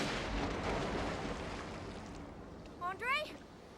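Gunfire in a tense film scene: a loud, broad blast of noise rolls off and fades, followed by brief raised voices.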